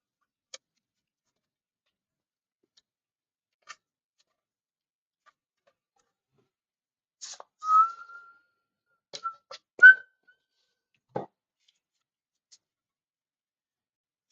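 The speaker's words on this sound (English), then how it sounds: "Guys, really sorry if you hear me whistle from time the song, but it entered in my mind" A person whistles a few short, faint notes of a song in a quiet room during 3D printing work, scattered between soft ticks and clicks with long silent gaps.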